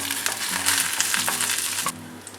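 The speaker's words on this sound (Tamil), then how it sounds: "எண்ணெயில் கடுகு சேர்த்துக்கிறேன்." Mustard seeds and urad dal fry in hot oil with a dense, continuous sizzle and fine crackling, while a spoon stirs the pan in a few low scrapes.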